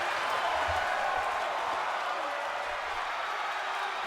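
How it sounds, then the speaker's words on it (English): Wrestling crowd at an ECW-style event on its feet for the Sandman, a steady roar of cheering and applause that fills the space without a break, with no clear voices standing out. "look at the crowd, all standing ovation"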